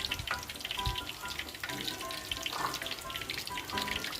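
Steady crackling sizzle of battered chicken necks deep-frying in hot oil in a small wok, continuous and fairly quiet, with small pops scattered throughout.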